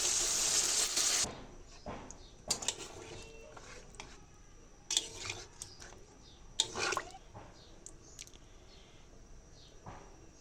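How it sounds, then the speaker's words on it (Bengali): Water is poured into a pan of spiced chicken that was cooked down with fried ground spices. A loud rushing pour opens the sound, then scattered splashes, squishes and drips follow. "এবারে পরিমাণ মতো পানি দিয়ে দেবো"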